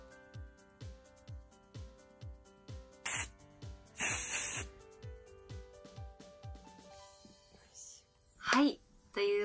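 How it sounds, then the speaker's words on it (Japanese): Clear lacquer from a spray can is misted onto a handmade seabass fishing lure in two short hissing bursts, the second longer, over steady rhythmic background music, with a voice briefly audible near the end. "この落下スプレーのこのクリアでやっていきたいと思います"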